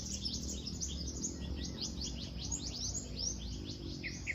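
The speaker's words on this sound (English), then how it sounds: "You can also hear beautiful birds." Many birds chirping and tweeting steadily against a low outdoor rumble, faint and somewhat distant, with no talking.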